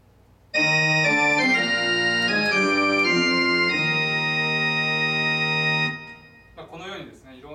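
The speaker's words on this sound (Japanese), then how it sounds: "オルガンの音をちょっと聞いてみましょう。" An organ tone from a wind synthesizer holds sustained chords for several seconds, loud and steady, then cuts off as a voice begins speaking.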